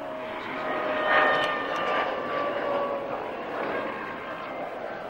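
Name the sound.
SE-5A biplane engine flying at airshow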